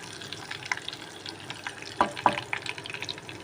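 Masala frying in a pan for chicken pickle makes a soft, uneven sizzle with bursts of crackling and a couple of sharper clinks from stirring, close and moderately quiet, without speech.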